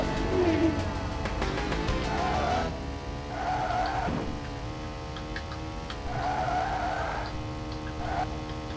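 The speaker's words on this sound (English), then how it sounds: "The Formula car on the Mega Drive actually drifts a lot like this" Formula car on the 32X in Virtua Racing Deluxe, drifting around corners with repeated squealing tire skids over a steady buzzing engine, in several separate bursts close up.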